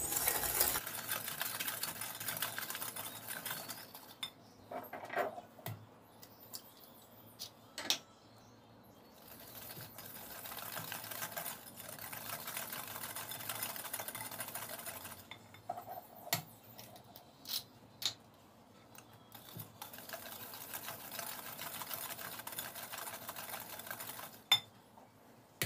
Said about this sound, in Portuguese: Vamos mexer até dissolver bem o açúcar.